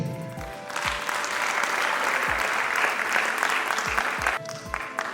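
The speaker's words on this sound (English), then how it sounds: "a round of applause for her" An audience applauds at an orientation event for a free digital training program, a dense burst of clapping that swells, holds for several seconds, then tapers off.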